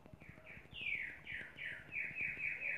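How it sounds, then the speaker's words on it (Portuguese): A small bird sings in a quick series of bright, repeated chirps, clear and fairly close, with no voices over it, set against a quiet, dark background during a Minecraft survival games session. "Esse passarinho cantando aqui, sempre que eu vou gravar,"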